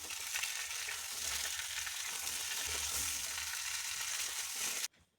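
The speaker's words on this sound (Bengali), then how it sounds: "এবারে ওই তেলের মধ্যেই আমি আলুটা দিয়ে দিলাম। আলুটাকেও আমি অল্প একটু ভেজে নেব।" Diced potatoes fry in hot oil for a Bengali rohu fish curry with eggplant, giving a loud, steady, dense sizzle that runs unbroken for nearly five seconds and then cuts off abruptly.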